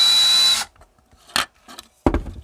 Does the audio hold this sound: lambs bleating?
no